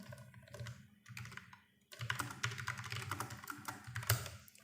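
Someone types code on a computer keyboard while building a React infinite-scroll feature, with dense, continuous key clatter that pauses briefly and then picks up again more quickly, close and clear, with no voices.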